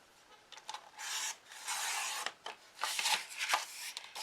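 Scissors cut through a sheet of paper in a quick run of close, dry snips and rasping strokes, moderately loud and uneven in rhythm, with no voices.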